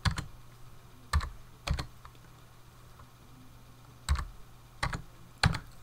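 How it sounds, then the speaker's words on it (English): A few separate keystrokes sound on a computer keyboard as a search is typed, each a crisp, close click with pauses between them against a quiet background. "go on the search bar and type in commodities"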